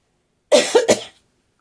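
A run of three quick, wet coughs close to the microphone, bursting out in rapid succession and trailing off into silence.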